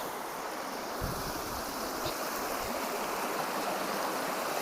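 Clear water flows steadily in a rocky stream at Gopnath near Sihor, a constant soft rushing gurgle with a few low splashing thumps, fairly close and with no one talking.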